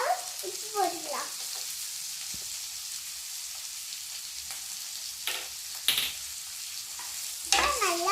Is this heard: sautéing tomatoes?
yes